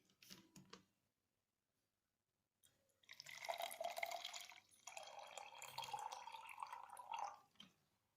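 Distilled or mineral water is poured into the humidifier bottle of an Owgels Oxy-Med oxygen concentrator, a close, steady trickle lasting about four seconds with a short pause midway, after a brief knock.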